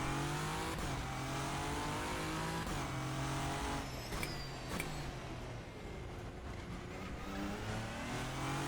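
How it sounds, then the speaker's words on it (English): A race car engine in the rFactor 2 sim racing game drones steadily and loud, with a brief throttle blip and rev changes partway through. No one speaks over it. "A bit of a blip on the throttle through there."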